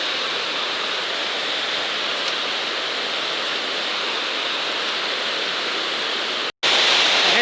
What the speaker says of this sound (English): Here's another river cascade.